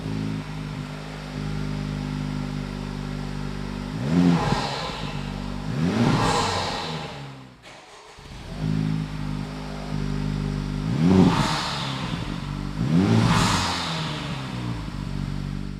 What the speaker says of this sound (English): what do you think about the sound here on initial startup?